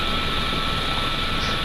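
A loud, continuous helicopter roar with a steady thrumming rotor drone fills the whole clip, close and unbroken.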